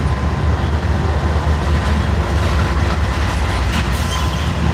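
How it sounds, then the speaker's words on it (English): A train crossing close trackside, a loud continuous rumble and roar of wheels and wagons that fills the whole stretch, with no talking. "I do not know our train number that's crossing here at the moment."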